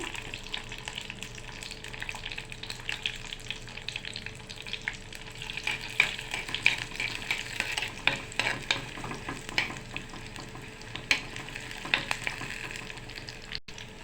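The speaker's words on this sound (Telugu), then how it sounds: "మెంతులు చిటిపట్లు ఆడుతున్నాయి." Steady sizzling of fenugreek seeds and garlic in hot oil with crackling pops and the scrape of stirring throughout, no voices.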